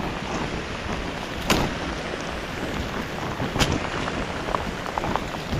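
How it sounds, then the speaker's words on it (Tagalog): Heavy rain pours down steadily on an outdoor tomato garden during a typhoon, a dense roar with a few sharp cracks or gusts standing out. "lumakas na naman yung ulan"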